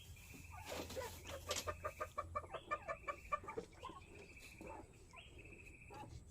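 Chickens gathered at a feeder on a farm, with a rapid run of clucks and short calls close by, rising and falling in bursts over a steady rural background.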